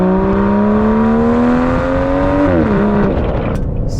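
An Aston Martin DB11 V12 at full throttle gives a loud, rising engine howl that climbs steadily in pitch, briefly dips at a gear change, then fades into road noise.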